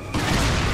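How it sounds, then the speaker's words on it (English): A dynamite blast blowing up a boulder in Resident Evil 4, a sudden loud, broad explosive roar that bursts in after a brief quiet moment and keeps rumbling with no speech. "You're gonna blow up that boulder."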